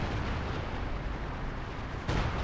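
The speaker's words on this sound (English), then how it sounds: "artillery just brutally murders him" Artillery fire in Company of Heroes 2 on the Port of Hamburg map makes a dense, continuous rumbling roar of blasts, with a sharper boom near the end.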